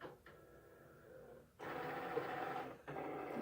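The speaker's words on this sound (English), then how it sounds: "So your Cricut will take a little light, and it will shine onto the black outline that your printer made, and it'll tell the Cricut where to cut." A Cricut cutting machine runs a light sensor over a printed black outline, giving a steady mechanical whir and hum that pauses briefly, then resumes louder and continuous, close up and with no talking.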